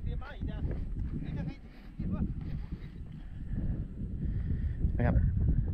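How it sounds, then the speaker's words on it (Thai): Strong wind on the mountain at Mulayit Taung near Myawaddy, Myanmar, buffets the microphone with a constant low roar while someone talks over it. "ลมแรงหน่อยนะครับเสียงลมจะแรงหน่อย"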